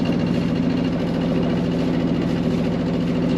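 A Beta Marine diesel boat engine runs steadily at a smooth, even idle, close by and alone with no voices.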